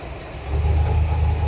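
The carbureted engine of a 1986 Silverton 37 yacht runs with a low, steady rumble that swells slightly louder partway through, heard close and alone.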